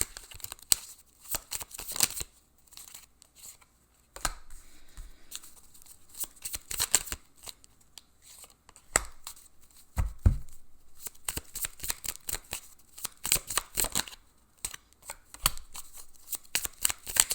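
Tarot cards are shuffled up close in repeated crisp riffling bursts, broken by brief pauses and soft handling sounds, with no talking.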